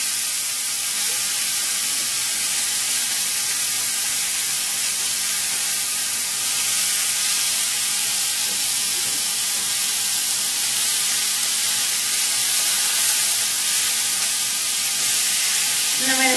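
Coho salmon fillets laid flesh side down in a hot pan sizzle and spit loudly and continuously, a dense, steady frying hiss that fills the whole stretch without a break.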